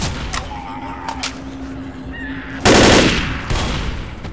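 Gunfire in the zombie shooter Left 4 Dead on a custom map: a loud burst of rapid shots erupts partway through, followed by a second, somewhat quieter volley over faint game ambience.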